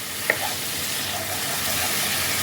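Spice paste frying in oil in a pan for Bengali doi potol, a steady close sizzle running throughout with one brief clink of a utensil near the start.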